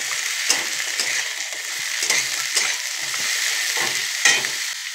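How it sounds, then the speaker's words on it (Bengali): Lentil dumplings (bori) and potatoes sizzle steadily in a hot oiled pan after eggplant has been fried, with repeated scraping stir strokes of a spatula cutting through the continuous frying hiss. "বেগুনটা ভাজা হয়ে গেছে, বড়ি আর আলুটাও দিয়ে দেবো।"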